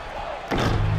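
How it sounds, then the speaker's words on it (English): A putback slam dunk in the basketball video game NBA 2K15 lands as a sudden loud impact, followed by sustained crowd noise and arena roar. "Plumlee slams it home for the putback."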